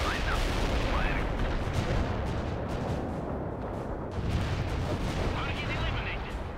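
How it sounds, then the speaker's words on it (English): Artillery fires in a military video game with a dense, continuous rumble of booms and blasts, while a game voice calls out orders over the barrage. "Artillery lined up. Firing."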